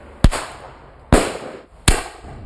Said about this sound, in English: It'll shoot out and then it's going to make a large bang at the end.